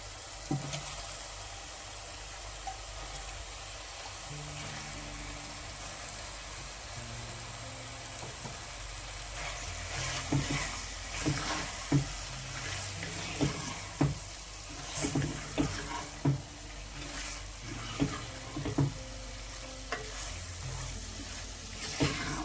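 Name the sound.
chicken frying in spiced masala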